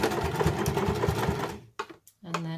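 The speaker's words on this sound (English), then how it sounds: "I'm just going to do a few reverse stitches to secure the stitch" A sewing machine runs a fast, rhythmic stitching burr for about a second and a half on a bag lining, then stops. A voice follows in brief speech after the motor stops.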